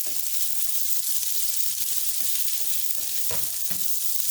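Rice stir-fries in oil in a skillet: a loud, even, hissing sizzle runs throughout, with soft spatula knocks and scrapes now and then and no talking.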